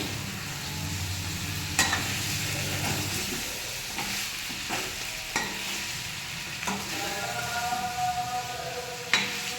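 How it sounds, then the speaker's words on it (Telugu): Spiced masala frying in a pan for chicken fry, a constant sizzle with scattered scrapes and knocks of a spoon against the pan as it is stirred, close by. "మసాలా వేసి బాగా ఫ్రై చేయాలి ఎందుకంటే అడుగు పట్టే ఛాన్స్ ఉంటుంది"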